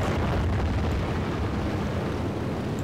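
Cannons fire in the video game Kerbal Space Program as a sustained, loud roaring blast of broadband noise with no pauses, filling the whole stretch without talk.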